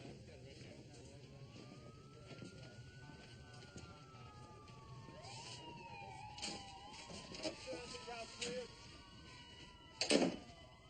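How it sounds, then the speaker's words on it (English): A wailing siren rises and falls over a rumbling background, with a few sharp bangs and clatters near the end. "Let's hear the sirens. Start them up."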